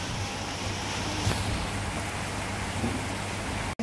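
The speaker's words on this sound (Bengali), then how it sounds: "জোরে জোরে বৃষ্টি হচ্ছে, এই দেখেন জোরে জোরে ফুটালা বৃষ্টি" Heavy rain pours down in a dense, continuous hiss, steady and close with no letup, broken only by a brief dropout near the end.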